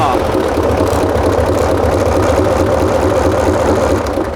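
A Hino F20C V8 diesel engine, 380 horsepower, runs at a steady idle, a deep, continuous rumble with a slightly knocking texture, loud and close throughout.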